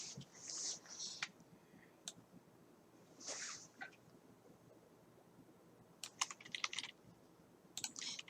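Typing on a computer keyboard while writing in Notepad, with close, crisp keystroke clicks in irregular bursts separated by quiet pauses.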